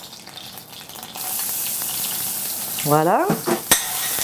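Vegetables and onion sautéing in clarified butter for a soup give a steady broadband sizzle, with a short spoken word briefly over it near the end.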